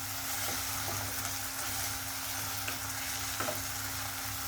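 Tomatoes sautéing in a pan for green gram gravy give a continuous soft sizzle and frying crackle, with occasional stirring clicks, close and steady with no talk.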